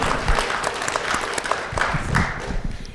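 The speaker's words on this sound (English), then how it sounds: "please, a round of applause for Sherri." Audience applause at an SXSW 2025 panel on Arctic climate and national security, a dense wash of clapping from a room of people, steady and fairly loud for about three seconds with no speech over it.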